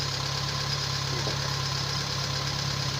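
A Kia Pride that had trouble starting after being parked now idles in steady running condition, a close, even mechanical hum with a faint knocking throb and no voices over it.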